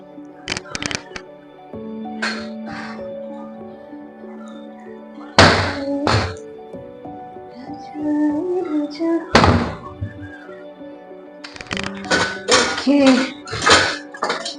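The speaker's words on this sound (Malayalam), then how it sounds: "നമുക്കിത് പയ്യെ ഒരു പാത്രത്തിലേക്ക് നമുക്ക് മാറ്റാം" Golden-brown fried food being moved from a pan into a small bowl, with scattered dull thunks and metallic clinks of utensils against cookware, a few sharp knocks, and a voice talking throughout.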